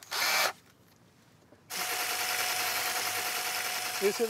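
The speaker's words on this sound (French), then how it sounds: "Et ce mixeur à smoothie qui tourne à la perceuse." Homemade smoothie blender driven by a power drill, a short whirring burst, a pause, then a sustained steady motor whine running loud and close to the end.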